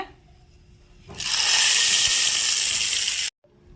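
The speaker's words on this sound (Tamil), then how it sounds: "தாளிப்பு அப்படியே சட்னியில் ஆட் பண்ணிடுங்க" Hot oil tempering with mustard seeds, urad dal and curry leaves is poured into a garlic and red chili chutney, bursting into a loud, hissing sizzle for about two seconds before cutting off abruptly.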